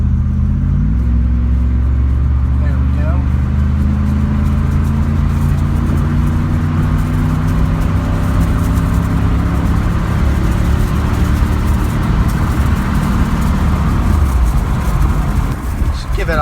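A 1997 Camaro Z/28 with a rebuilt engine accelerates up to speed on a highway, its engine drone climbing steadily and loudly through the gear with road rumble, and someone talks over it.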